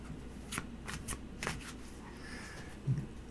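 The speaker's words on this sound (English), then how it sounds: "Did you shuffle already?" Tarot cards are shuffled in several quick riffling bursts close to the microphone, crisp papery flutters spaced about half a second apart, followed by a soft tap.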